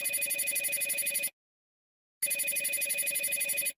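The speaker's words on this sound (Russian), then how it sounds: "Не поняла, а чё у тебя музыка, как у меня на телефоне?" A telephone ringtone melody plays in two loud, steady bursts with a clear gap of silence between them, bright repeating tones and no talk over it.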